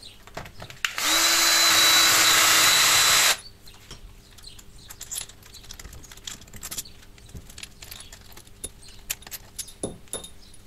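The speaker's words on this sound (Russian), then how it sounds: "И откручиваем форсунки." A power tool unscrewing the bolts that hold a car's fuel injectors, giving one loud, steady whir lasting about two seconds, followed by metallic clinks and rattles of parts being handled nearby.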